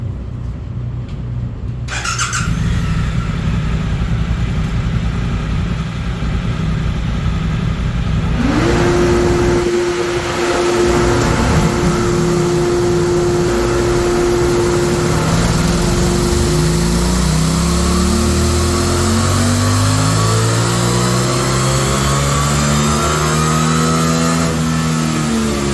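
A 2024 Suzuki GSX-8R fitted with a full Akrapovič exhaust runs on a dyno, idling briefly before the engine climbs through a long, rising rev sweep with a whining tone, loud and close throughout.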